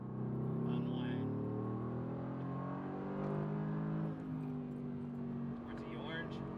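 A Mercedes-AMG GT R engine at full throttle on a racetrack, a steady, loud, low droning roar that holds across the clip, with an instructor's voice talking over it.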